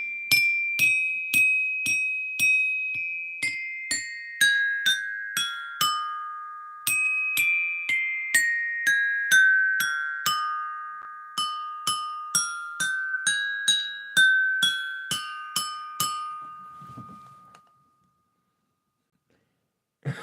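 Glass dinging over and over, bright clear strikes in a quick irregular rhythm, each ring decaying slowly and sliding gradually lower in pitch, close and loud, then fading into silence near the end.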